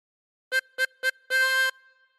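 A 16-hole tremolo harmonica blown on hole 5 gives three quick reedy notes followed by a fourth, longer held note at the same pitch, close and fairly loud.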